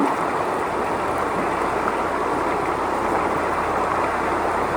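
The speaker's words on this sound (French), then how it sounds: "Du coup, je peux rincer tranquillement." A gold pan is rinsed in a stream in the Yukon, a loud continuous wash of rushing, splashing water filling the whole clip, with no talk.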